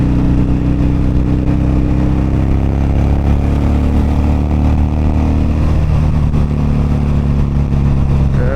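A large group of motorcycles rides past on a weekend bike ride to Big Bay, their engines forming a loud, continuous rumble with revving that shifts as the bikes pass close by.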